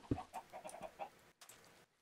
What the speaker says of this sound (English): there's more chickens here actually. I'm gonna kill these.